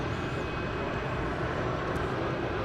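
A Boeing 787 Dreamliner airliner at DFW airport gives a steady, broad engine roar that fills the whole moment at moderate distance, with no other sounds on top.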